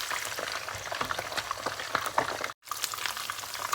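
Snakeskin gourami fish frying in hot oil, giving a dense, continuous crackling sizzle up close that cuts out for a brief moment before resuming, with no speech.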